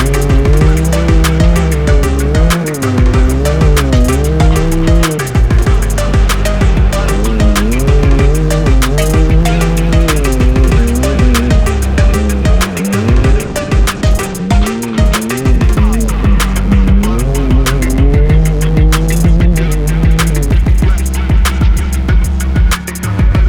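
Race cars roaring in toward pit road at a short-track event, engines loud and sustained with shifting pitch and squealing tires, a dense unbroken wall of motor noise throughout.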